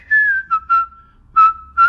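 A person whistles a short pop song melody alone, one sustained sliding note followed by several short clear pitched bursts, close and loud against a quiet background.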